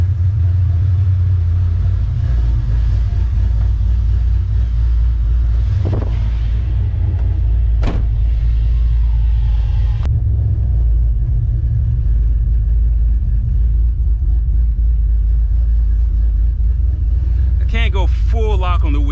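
An SN95 Ford Mustang idles with a loud, steady low rumble throughout on its first drive, with a few brief clicks and a short burst of higher noise near the end.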